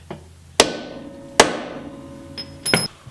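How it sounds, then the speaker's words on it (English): Two sharp, ringing metallic hammer strikes on a center punch into metal, spaced about a second apart, followed by a couple of lighter taps; close and loud. "here's where I'll use the hammer and the punch"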